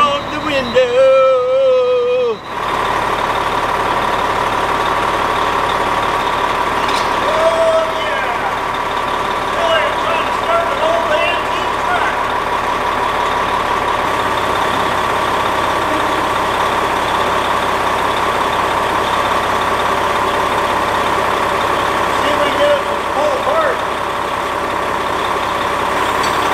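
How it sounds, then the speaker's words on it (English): A semi truck engine idles just after start-up, with a steady low rumble and hum that holds loud and close throughout, and someone talks over it at times. "Just started up the semi."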